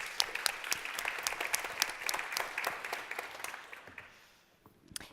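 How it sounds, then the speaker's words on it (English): A conference audience applauding in crisp, close, dense clapping that gradually thins and fades away, leaving near silence with a last few stray claps. "give a round of applause, please"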